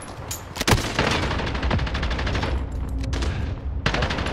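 Rapid bursts of LMG machine gun fire in Call of Duty: Modern Warfare team deathmatch, loud sustained automatic rattling with brief pauses between strings of shots, close and dominant.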